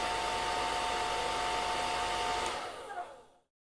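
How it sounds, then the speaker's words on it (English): A hair dryer blows with a steady, loud whooshing hum, then winds down and cuts off after a few seconds. "There's his mom with the hairdryer."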